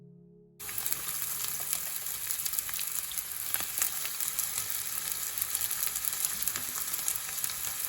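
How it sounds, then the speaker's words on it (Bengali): Chicken cutlets shallow-fry in soybean oil in a saucepan over medium heat, giving a loud, continuous crackling sizzle that starts abruptly after a brief quiet moment and carries on with scattered pops. "এখন আমি সসপ্যানে কিছু দিয়ে দিলাম সয়াবিন তেল। এটা শ্যালো ফ্রাই করতে হবে"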